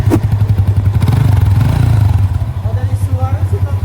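A Yamaha Vixion motorcycle engine with a worn, smoking piston ring block starts up close by and settles into a loud, steady, throbbing idle with a rapid pulsing exhaust beat.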